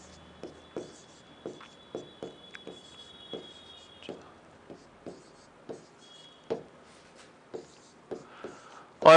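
Chalk or marker writing a number series on a board, a regular run of short tapping strokes about every half second, close and clear, ending in a louder knock.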